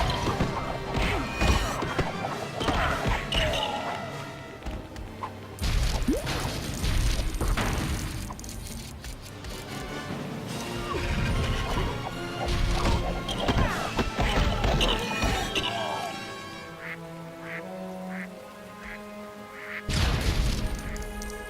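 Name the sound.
objects smashing in the video game LEGO Batman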